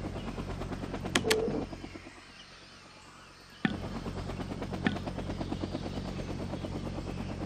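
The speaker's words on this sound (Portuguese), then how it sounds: "Tá, tem helicóptero ali pronto, né? Pra reabastecer." A helicopter in the Vietnam-era combat game Vietnam '65 drones with a low, continuous rotor hum, broken by a couple of sharp gunshot-like bursts and a brief lull before the engine noise returns.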